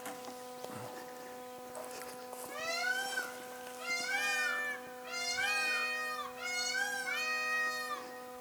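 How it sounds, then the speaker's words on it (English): Peacocks in breeding season call out in a series of loud, wailing, rising cries from a short distance, repeated several times over a steady background hum around a home garden. "You probably hear our peacocks in the background. It's breeding season for them, so they're very vocal today."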